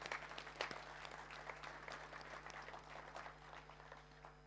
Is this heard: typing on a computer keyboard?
no